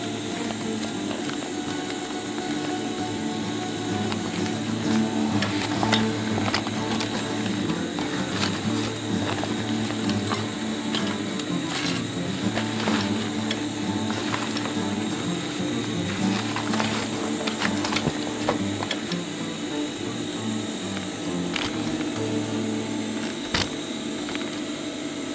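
A sewing machine stitching backpack canvas runs with a dense mechanical whir and rapid needle clatter, steady and close over a long stretch, with occasional sharp ticks and brief slowdowns.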